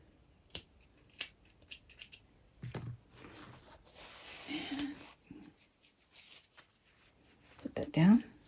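Scissors snip a length of yarn for a crocheted pot scrubber, with scattered soft clicks and rustles and one sharper cut near the end.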